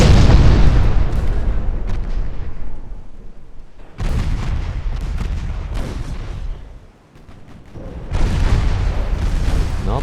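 A warship fires broadsides in a 1947-era naval video game: three heavy, loud bursts of gunfire about four seconds apart, each a thunderous boom with a rumbling decay.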